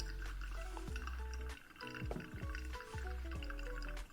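Ethiopian specialty coffee drips faintly through a Hario V60 paper filter during a pour-over, with a few quiet drops and a light trickle.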